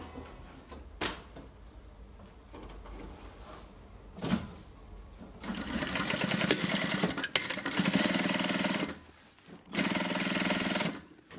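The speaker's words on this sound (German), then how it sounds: "Mit der Innentasche fangen nach der ganzen Stanzerei nun endlich auch die Näharbeiten an." Sewing machine stitching the inner pocket of a handmade leather satchel: a few sharp clicks and knocks, then two sustained bursts of fast mechanical whirring stitching, separated by a short pause, close and loud.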